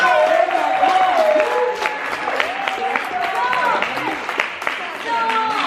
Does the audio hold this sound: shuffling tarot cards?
no